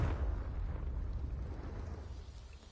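A Confringo spell explodes in Hogwarts Legacy on PS5: a deep, rumbling blast that starts loud and rolls on steadily with a low roar, fading only slightly over a few seconds.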